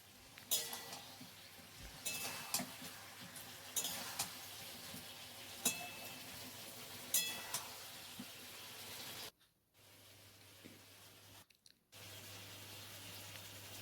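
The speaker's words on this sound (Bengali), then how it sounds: "ভালো করে নাড়াচাড়া করে নেব" Fried cabbage pakoras are stirred through a boiling gravy, making steady wet stirring and bubbling with occasional spoon scrapes and clinks, close and moderately loud, pausing briefly twice near the end.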